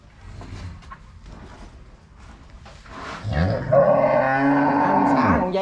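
A cow bellows on a farm, a deep, strained moo that swells and holds for a couple of seconds, close and loud, after softer rustling and low murmuring.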